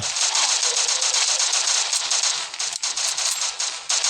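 Continuous rapid automatic gunfire from the video game Adalet Namluda 2, loud and dense, with a sustained rattling burst that barely lets up throughout.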